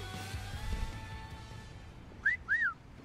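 Two quick rising-and-falling wolf whistles from a man, sharp and clear over a quiet background.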